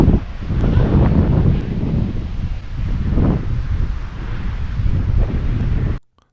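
Water rushes steadily over a dam weir spillway at Lyman Run Lake. The roar is broad and continuous, with strong wind buffeting the microphone outdoors, and stops abruptly at the end.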